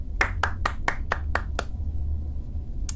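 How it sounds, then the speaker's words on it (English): About eight quick, crisp claps from one or two people at a tabletop role-playing game session, close by, over a low background hum, ending with a single late clap after a pause. "Round of applause for Favia Gita."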